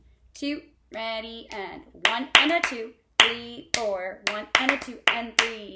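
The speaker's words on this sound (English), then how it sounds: "So clap those two rhythms, nine and ten." Sharp hand claps beat out a quick rhythm while a voice counts the beats aloud alongside them.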